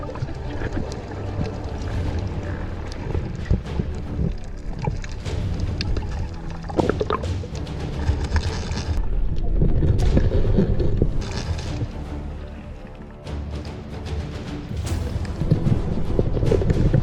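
A small fishing boat fitted with newly restored motors runs across open water, its engine drone steady and rumbling under heavy wind buffeting and water splashes, loud and close with no talking.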